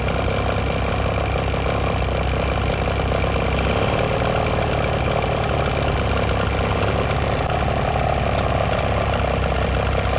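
A Johnson 15 outboard motor idles steadily at a low idle speed, a loud, continuous mid-pitched engine drone without pauses or talk.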